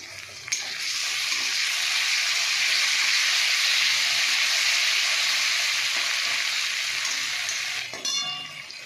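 Green chili paste dropped into hot spices bursts into a loud, even, hissing fry that holds steadily for several seconds and then cuts off abruptly, close and with no talking.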